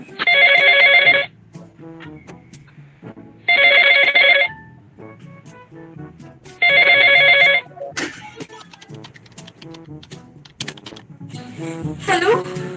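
A phone rings unanswered in three evenly spaced bursts with short silent gaps between them, near and clear, followed by softer clicks, knocks and faint voices.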